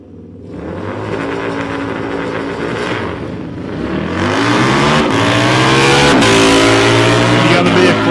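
A Kawasaki and a Harley launch side by side in a drag race at South Coast Raceway, engines rising from idle into loud, climbing revs with gear changes, the howl building and staying close and intense.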